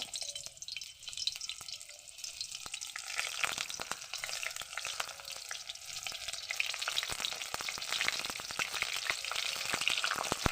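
Bok flower fritters frying in hot oil, a steady, dense crackling sizzle that lasts throughout, close and moderately quiet, with scattered sharper pops and a faint watery hiss and no speech.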